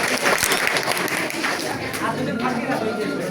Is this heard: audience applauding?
yes